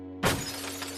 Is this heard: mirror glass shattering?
yes